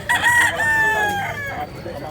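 A rooster crows once nearby, a loud, drawn-out call lasting about a second and a half, with faint voices in the background.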